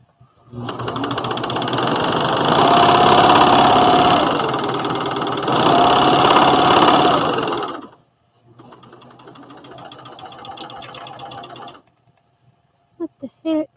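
A sewing machine stitches McCall's 7464 overalls: a loud, steady mechanical whir and rattle that runs about seven seconds, stops briefly, then resumes more quietly, followed by a few sharp clicks.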